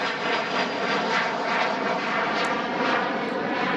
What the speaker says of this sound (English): there's the airplanes. I live near the airport, as you can tell.